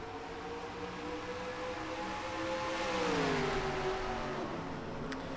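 GT race cars pulling away from a race start at Circuit de la Sarthe in a racing video game, a distant engine whine rising and sliding in pitch as one car accelerates past, with no talk.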